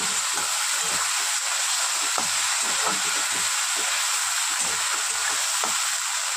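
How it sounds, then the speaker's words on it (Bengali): Ginger garlic paste fries in hot oil in a pan, giving a loud, continuous close-up sizzle with faint stirring scrapes beneath it. "টিস্পুন আদা রসুন পেস্ট দিয়ে দিলাম।"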